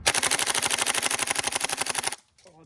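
Gas blowback FAMAS airsoft rifle emptying a magazine of BBs on full auto: a rapid, even stream of sharp clattering shots runs for about two seconds, then stops abruptly into near silence.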